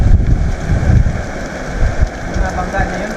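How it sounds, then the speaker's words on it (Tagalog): Strong wind buffeting the microphone while riding a bicycle outdoors in Japan, a loud, uneven low rumble and gusty roar close up, with someone talking over it. "Grabing hangin mga lodi."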